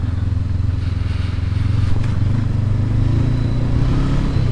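A stock 2019 Honda CB500X motorcycle riding off-road drones at a steady, loud, close engine pitch that holds throughout, with slight rises and no voices.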